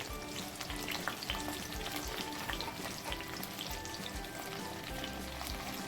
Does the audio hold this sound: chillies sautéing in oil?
yes